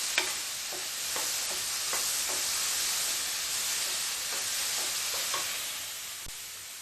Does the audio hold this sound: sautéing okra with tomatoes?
yes